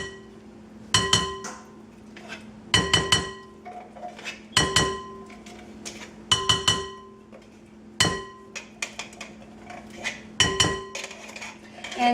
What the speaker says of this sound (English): I'm just going to use a little spatula here to scrape this out